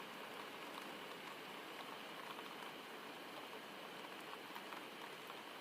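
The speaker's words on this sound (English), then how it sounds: "gentle rain sings across the rooftop above" Gentle rain falls on the wooden roof of a cabin in a rainy forest, a soft, steady hiss of drops that stays even and unbroken throughout.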